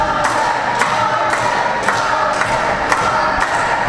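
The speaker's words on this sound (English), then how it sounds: "Fans at the Battlezone cheering on for Harker Dirge" Wrestling fans cheer and roar in a packed independent-wrestling arena, a loud, steady crowd din punctuated by rhythmic thuds roughly every half second, as if from stomping or ring impacts.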